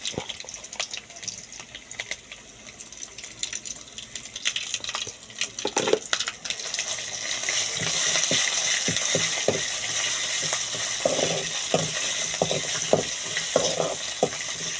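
Ginger garlic paste and masala frying in a pan for octopus curry, a continuous close hiss of sizzling oil that grows denser midway, with repeated clicks and scrapes of a stirring spoon and no voices.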